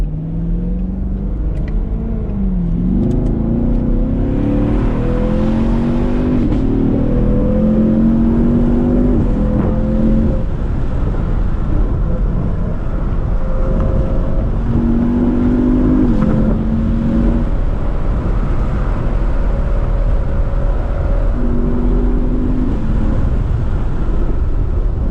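A 2020 Chevrolet Camaro SS driven hard, its engine revving loud and close with rising pitch sweeps broken by gear shifts, repeated several times over a constant road roar.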